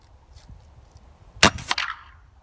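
Air rifle shots at a target club, comparing .177 and .22 calibres: two sharp, close cracks about a quarter second apart against quiet background, the second followed by a brief metallic ring.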